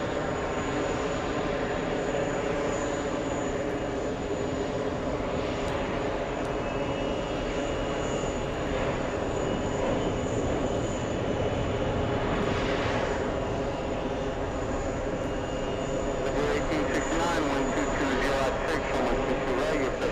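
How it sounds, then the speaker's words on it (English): A South Korean government Boeing 747 aborts its landing and climbs away in a go-around, its engines a steady, broad roar that fills the whole stretch, with people talking over it. "this is the South Korean government 747 staying on the runway a little too long, causing the go around"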